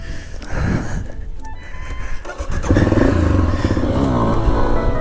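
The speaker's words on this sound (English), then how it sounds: "Let's ride the damn bike." Honda CRF250F dirt bike starting off and riding on a road test, its engine loud and close, the revs climbing from a lower rumble into a sustained buzzing drone with rattly mechanical clatter.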